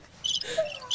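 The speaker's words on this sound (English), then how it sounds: "She can't hear the crickets, but they are playing." Cricket-like chirps sound in a short, bright burst played as a joke sound effect, fairly loud and close over quiet background.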